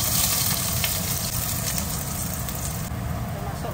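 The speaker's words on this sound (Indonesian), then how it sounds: "kita goreng lah bawang putih kita" Garlic fries in hot oil with a steady, fairly loud sizzling hiss throughout, close up, with faint background noise.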